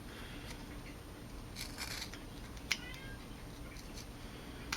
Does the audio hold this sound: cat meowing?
yes